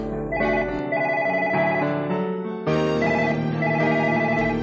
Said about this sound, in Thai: เสียงโทรศัพท์ของวิพาดาดังขึ้น